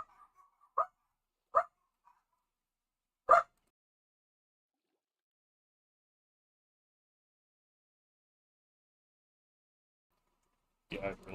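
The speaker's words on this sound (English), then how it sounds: "Yeah, I really don't know what they're barking at." Dogs in a Minecraft game bark in three sharp, separate yaps early on, then a long stretch of silence before a louder burst near the end.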